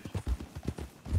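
A horse's hooves clip-clop in a quick, uneven rhythm in the RedM roleplay game, close and fairly soft, with a faint whinny blended in and no talk over it.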